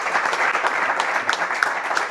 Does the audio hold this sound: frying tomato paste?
no